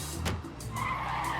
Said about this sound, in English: Nat, follow that car.